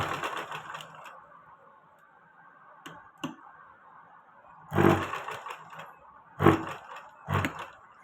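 A sewing machine stitches fabric in short bursts: a brief run at the start, a couple of faint ticks, then three louder, close-up runs of rapid needle chatter with quiet gaps between them and no talk.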